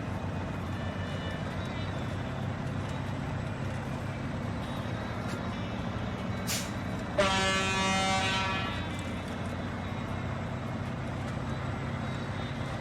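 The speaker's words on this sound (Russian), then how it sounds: "Клаксончик." A decorative truck horn sounds once in the off-road driving game SnowRunner, a short loud blast over a steady engine rumble, while someone talks throughout.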